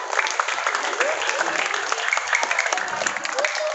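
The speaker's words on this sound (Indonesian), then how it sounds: "Kasih tepuk tangan dong." An audience of primary school pupils applauding after a class drama performance, a dense, steady burst of clapping from many hands with some crowd voices mixed in.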